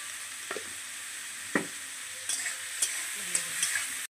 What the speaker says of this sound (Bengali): তো চলো এটাতে আমি একটু নুন দিয়ে দিই, তাহলে আমার পেঁয়াজটা তাড়াতাড়ি ভাজা হয়ে যাবে।